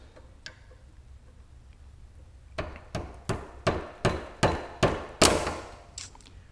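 A big hammer pounding metal during an LS engine swap on a Porsche 944, two early isolated taps, then a steady run of about nine loud, sharp blows at roughly one per second in a quiet garage.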